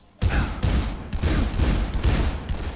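Gunfire in the zombie video game Dead Island: a rapid volley of loud, close shots with ragged, uneven timing.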